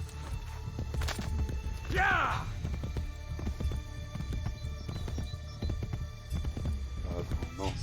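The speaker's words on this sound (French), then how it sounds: "on va prendre le cheval" Horse hooves clip-clopping in the Assassin's Creed Brotherhood video game, a steady trotting rhythm mixed with game ambience and music while someone talks over it.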